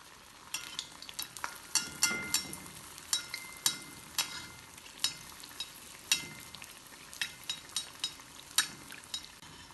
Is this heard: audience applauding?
no